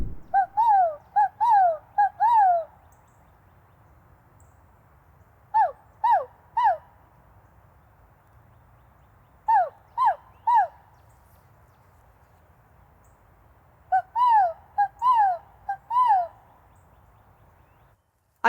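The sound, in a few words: crows or blackbirds calling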